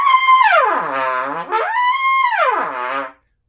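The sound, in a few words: trumpet glissando from pedal D to high D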